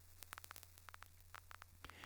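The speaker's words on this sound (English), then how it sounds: "And if you're sharp, you can hear that crackling already." An audio plugin effect emulates vinyl record distortion, giving sparse sharp crackles and pops scattered irregularly over a faint steady hum, quiet and close.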